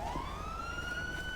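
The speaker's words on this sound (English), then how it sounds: "That's someone's siren." Police siren in GTA V with the LSPDFR mod, a single rising wail heard briefly at a distance beneath low background rumble.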